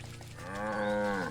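A single cow moos in the video game Wytchwood, a drawn-out, steady low call that swells louder partway through and holds for about a second, heard alone without talk.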